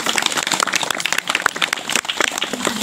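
A small group of people claps in a steady, busy patter, the hand claps fairly close and continuous throughout, mixed with some background chatter.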